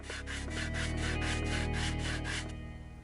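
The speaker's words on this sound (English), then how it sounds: "I can now move on to hand sanding and make the box look a little prettier" Hand sanding a wooden light box, with steady back-and-forth rubbing strokes that are loud and close, running continuously for about two seconds before easing off.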